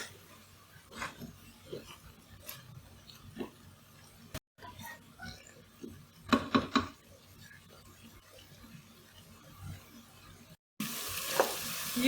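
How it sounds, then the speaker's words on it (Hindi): Mutton masala for bhuna gosht frying in a pan, a low sizzle with rubbing and scraping stirs and a few louder bursts, close up, interrupted by brief cuts and with some speech mixed in. "और थोड़ा सा भून लें।"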